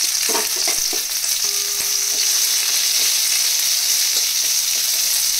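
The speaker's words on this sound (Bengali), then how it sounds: "পেঁয়াজগুলো একটু ভেজে নেব" Onions sizzling steadily in hot oil, a continuous close crackle broken by occasional scrapes and taps of stirring.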